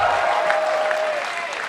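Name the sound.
crowd applauding at PAX Prime esports event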